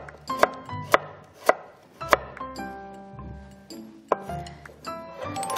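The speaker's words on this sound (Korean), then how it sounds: "그다음에 오늘 당근도 채 썰어서 들어갈 거예요" A kitchen knife cuts carrots into thin julienne strips on a cutting board. Sharp chopping taps land at irregular intervals, close and clear, with faint clinks between the cuts.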